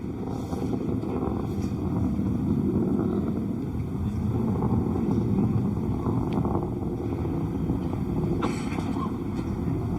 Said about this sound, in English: S139 motor and the two strap-ons will together develop thrust.